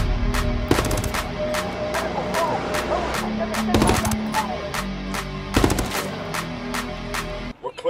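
Gunfire in the video game Ghost Recon Wildlands: sustained automatic weapon bursts rattle steadily, broken by several sharper, louder volleys and impacts, with a low rumble underneath and faint game voices.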